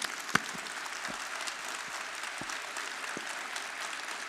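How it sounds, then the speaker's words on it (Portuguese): Audience applause for a man who is tetraplegic after an accident, rising from a crowd in a talk or lecture hall, a steady, even wash of clapping with a few sharper individual claps near the start, with no voices over it. "Uma salva de palmas para esse cara, ele merece."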